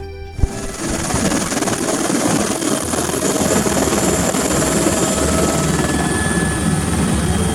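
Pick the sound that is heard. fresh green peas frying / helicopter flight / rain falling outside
helicopter flight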